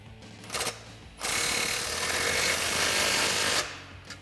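A 15mm deep socket on a power tool tightens an exhaust clamp on the over-axle pipe of a 3.6L Jeep Wrangler JL, first in a brief buzz, then in a loud, steady whirring run of about two seconds up close.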